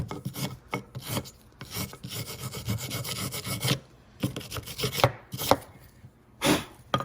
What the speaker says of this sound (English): Clean them up. A little sandpaper if you don't have a wire brush.